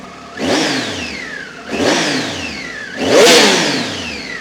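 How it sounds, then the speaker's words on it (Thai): Three loud engine revs in quick succession, each surging up and then winding down, the throaty roar of a 2015 Triumph Tiger 800 XRX motorcycle close by. "ฟังเสียงเบิร์นรถกันนะครับผม"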